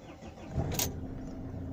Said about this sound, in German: So, Motor läuft.